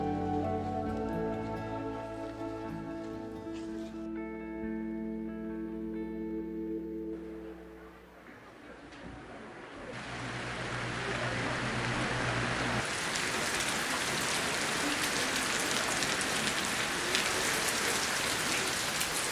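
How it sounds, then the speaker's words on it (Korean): Rain falls on the grey roof tiles of Pyochungsa temple, a dense, steady patter that swells in as soft music fades, then continues loud and unbroken. "비가 오면 오는 대로 온몸으로 받아냅니다"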